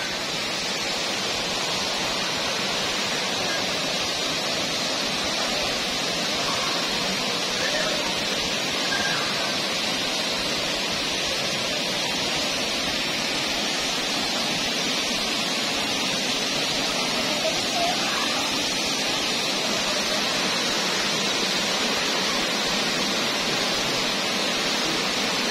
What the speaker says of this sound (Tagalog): Anat Falls.